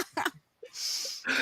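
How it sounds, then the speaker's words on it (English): Phlegmy, wet coughing: one harsh cough burst with a throaty clearing sound, a short pause, then a longer raspy, breathy exhale and a final rough cough, close and fairly loud. "those aren't like just like regular old coughs. Those are like there's some phlegm to those."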